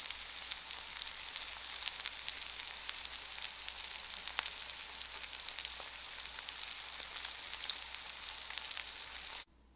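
Striped bass fries in a covered pan with a steady, fairly quiet sizzle and scattered small pops and crackles, going on with no talk until it stops abruptly.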